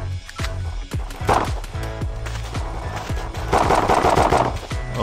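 Rapid bursts of automatic gunfire from the blocky shooter game Blockpost, a steady stream of sharp repeated shots with two denser, louder volleys, heard alone without talk.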